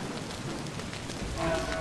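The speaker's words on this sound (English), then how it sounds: "But enough of the rain, guys." Steady rain from the Torchlight 2 video game, a dense even hiss that swells slightly louder near the end, with no voices over it.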